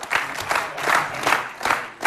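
A studio audience at a television music show claps in loud, rhythmic waves. The clapping swells and dips about twice a second, with some cheering mixed in.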